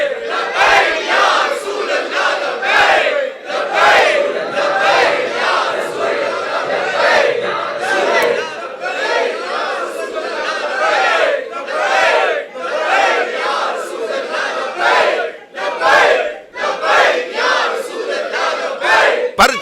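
A large crowd chants a religious slogan in unison at a Milad gathering for 12 Rabi ul Awal in a mosque, loud, dense and rhythmic, with repeated surging calls and no pauses.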